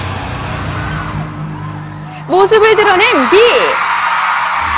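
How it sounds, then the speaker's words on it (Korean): Fans scream and cheer loudly as a concert gets under way in Busan, a burst of shrill crowd whoops rising over a narrator's voice. "팬들의 뜨거운 함성 속에 드디어 공연이 시작되고"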